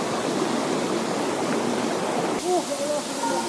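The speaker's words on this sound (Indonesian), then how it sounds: "sekarang kita udah nyampe di air terjun air terjun pertama menuju air terjun Proklamator." Waterfall on the trail to Air Terjun Proklamator in West Sumatra, a constant loud broadband rush of falling water throughout, with brief whistling tones near the end.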